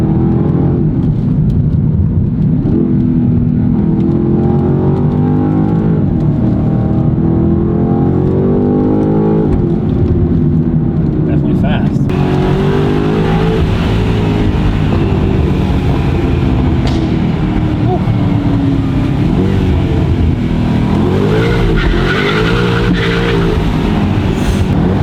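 A BMW G90 M5 V8 fitted with a titanium exhaust and stock downpipe revs hard, loud and close, its engine note climbing and falling through repeated sweeping pulls, with a sharper, rasping burst of revving partway through.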